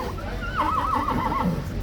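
A single horse whinnies nearby, a quavering, wavering neigh that rises and falls over a low background rumble.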